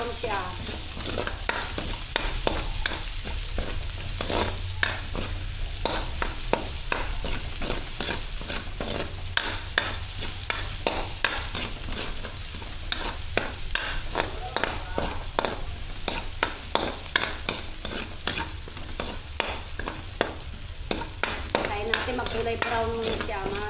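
Garlic and onions sizzle and brown in a pan for igado, a dense, continuous frying crackle with constant stirring scrapes and pops close by, no one speaking.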